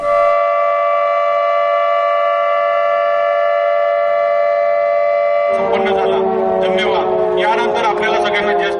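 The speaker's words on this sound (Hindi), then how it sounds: "फिर 11:01 पर सायरन बजाकर मौन तोड़ने की सूचना दी गई।" A loud, steady siren marking the end of a silence observance holds a sustained tone for about five seconds, then people start talking while it keeps sounding.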